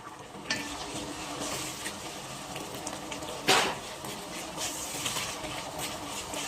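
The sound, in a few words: frying ginger and garlic in a pan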